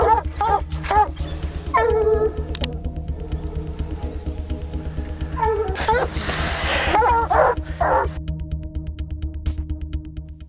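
Hunting dogs barking repeatedly in sharp bursts, with yips and whimpers between, close and loud over a constant low rumble, with a louder flurry of barks near the end.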